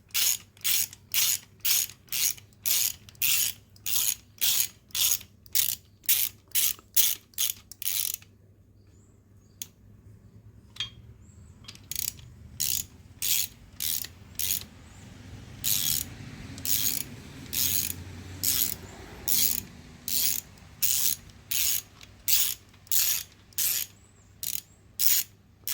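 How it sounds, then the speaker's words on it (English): A socket wrench ratchets bolts down on the main bearing caps of an L48 small-block Chevy engine during bottom-end assembly: rapid, loud, evenly spaced clicking bursts, a pause with faint handling noise in the middle, then more ratcheting strokes, with no talking. "And then I'll use my regular socket wrench just to put them down in place."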